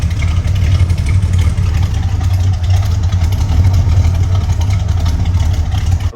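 The engine of a 1964 Chevrolet Chevelle Super Sport with stock exhaust manifolds and dual exhaust idles steadily with a deep, rumbling exhaust note, continuous and fairly loud throughout.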